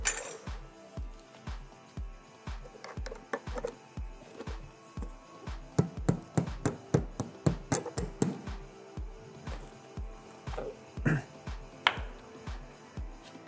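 Metal fixing work on a firestop cavity barrier being attached to a masonry wall, with a steady series of sharp clicking and tapping strikes, close and fairly loud, growing denser and harder in the middle before easing off.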